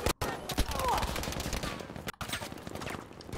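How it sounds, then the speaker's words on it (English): Pistol gunfire in Battlefield V, a rapid string of sharp, close shots in an irregular burst over busy game noise, broken by a couple of short silent gaps. "This pistol sucks."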